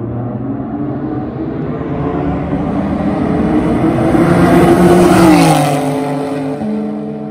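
A loud BMW M3 accelerates hard in a drag race, its engine note climbing steadily in pitch, peaking and then dropping through a gear change as it pulls away.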